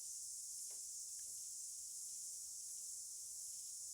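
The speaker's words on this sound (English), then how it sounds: "now I can hear the cicada, maybe you can too" A cicada calling with a continuous, high, hissing buzz that holds steady throughout, faint and unbroken with no other sound over it.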